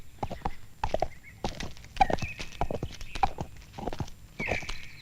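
Horse hooves clip-clopping in a historical court setting, steady repeated hoofbeats at moderate distance, with a whinny-like tone and faint talk around them.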